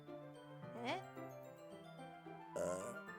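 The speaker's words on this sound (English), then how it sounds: "That was a solid burp." A cartoonish voiced burp from the Doki Doki Literature Club video game. It is short and gurgling, played alongside game music chimes and a synthetic character voice.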